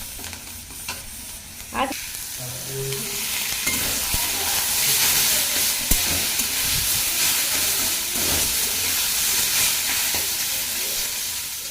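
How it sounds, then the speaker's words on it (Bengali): Spinach frying in a pan gives a steady hissing sizzle with scraping stirs, loud and close throughout, with a brief word spoken once. "তো এদিকে আমার এই যে পালং শাকটা ভাজা হয়ে গেছে।"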